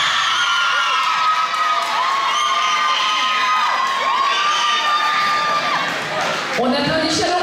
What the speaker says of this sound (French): On applaudit chaleureusement les 3 jeunes femmes qui figurent sur le podium de cette élection Miss Cameroun Suisse